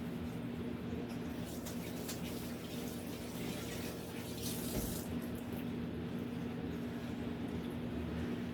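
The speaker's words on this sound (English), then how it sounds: "I'm going to try to keep washing my hands regularly" Tap water runs steadily into a sink while hands are washed, a continuous close hiss and splash with slight changes in the flow.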